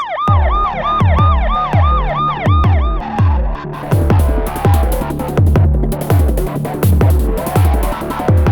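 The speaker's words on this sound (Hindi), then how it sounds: "एम्बुलेंस" A loud ambulance siren wails in repeated rising and falling sweeps for about three seconds, then shifts to rapid overlapping yelps mixed with traffic rumble and clatter, sounding close and continuous.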